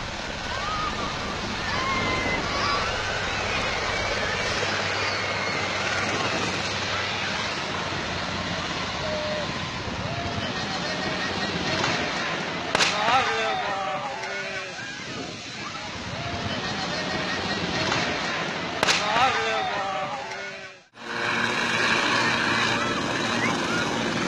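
A helicopter carrying Maharashtra's chief minister takes off at Latur, heard as a steady, heavy roar with wind-like rushing throughout, briefly swelling twice and cutting out sharply near the end.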